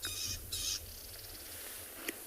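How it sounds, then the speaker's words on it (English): Birds chirp in open South African grassland during a morning safari, giving bright high-pitched trills and calls at a distance over steady outdoor ambience, with one sharper chirp near the end. "You can hear a lot of birds busy chirping"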